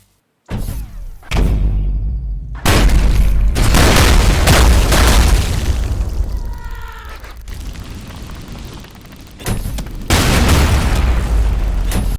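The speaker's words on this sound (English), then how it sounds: "If the enemy is in the air and they get hit by a rocket, it will make an even bigger and more powerful explosion" Rocket launcher explosions in the video game ULTRAKILL, several loud, close booms separated by short gaps, each with a heavy low blast and a rumbling tail, mixed with other game sounds and no voices.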